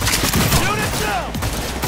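Gunfire in the video game Cyberpunk 2077, a dense, continuous barrage of shots filling the scene, with a voice briefly heard underneath the loud firing.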